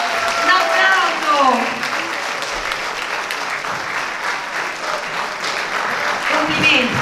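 An audience applauds at a film awards gala: dense, sustained clapping from a crowd while a voice talks over it throughout.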